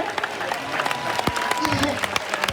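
Congregation applauding during a French-language church sermon, a dense steady patter of clapping with crowd noise and voices mixed in throughout.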